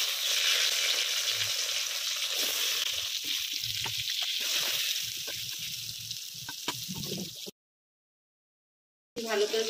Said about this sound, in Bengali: এবার বেগুন ভেজে নিচ্ছি।